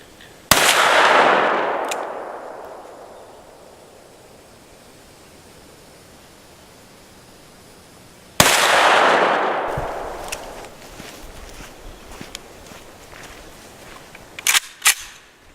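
Two heavy booms from a Smith & Wesson 629-6 .44 Magnum revolver firing 180-grain soft point rounds at steel, each a sharp loud crack with a long decaying echo, spaced about eight seconds apart, followed by faint clicks.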